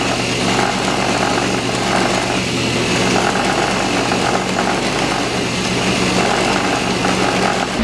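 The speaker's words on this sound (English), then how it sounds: "5 minutes over on a buffing wheel, this will look a lot better anyway." A motor-driven buffing wheel polishes a hollow rear axle during an FZR motorcycle restoration, a loud, steady, unbroken whirring grind that runs the whole time without pauses or voices.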